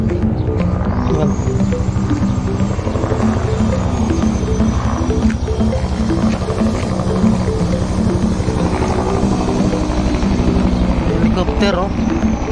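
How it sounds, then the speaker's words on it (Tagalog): A helicopter flying overhead near a tower construction site, its rotor chop and engine drone loud and continuous, with a thin whine above and people talking over it. "Helicopter, oh."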